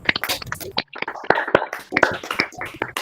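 Participants in an online meeting applaud through open microphones, giving scattered, uneven claps that cut in and out, mixed with brief voices talking.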